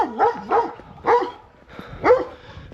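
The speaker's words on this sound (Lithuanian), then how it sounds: "Dar vienas dogo." A dog in a Romanian village barks four times in a loose, uneven rhythm, close and fairly loud, with short quiet gaps between the barks.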